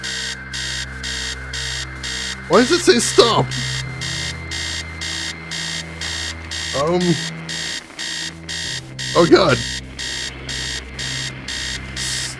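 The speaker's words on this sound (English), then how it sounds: "Upstairs, the sound of an alarm clock blaring." An alarm clock blares upstairs in the horror video game Stories Untold, pulsing in a steady repeating beep pattern throughout, with a person talking over it in short bursts.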